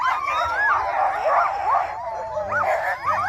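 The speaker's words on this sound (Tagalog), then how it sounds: "Ito yung mga aso." Sled dogs in Ilulissat, Greenland yipping, whining and howling together in a continuous, close chorus, with pitched whimpers rising and falling throughout and lower barks near the end.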